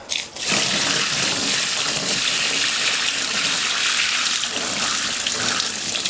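Water gushes steadily into a bucket being filled for a small portable washing machine, a loud continuous splashing rush from close by with no talk.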